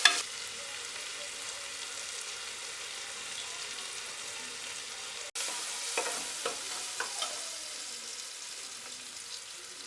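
Onions sautéing with a little salt in a pressure cooker, a steady close sizzle throughout with a brief drop near the middle, then several sharp clinks and scrapes of stirring.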